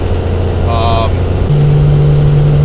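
A Ford truck towing a loaded trailer at normal driving speed gives a steady low engine drone and road rumble, with the engine note stepping up partway through, close inside the cab.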